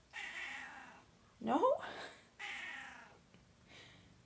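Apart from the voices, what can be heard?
cat meowing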